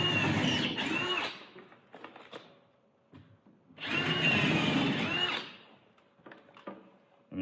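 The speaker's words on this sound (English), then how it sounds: "So we're gonna start again by pre-drilling our holes." A power drill pre-drills holes in a garage door header during torsion spring work, two loud whirring bursts of about two seconds each separated by a quieter pause with faint clicks and handling noise.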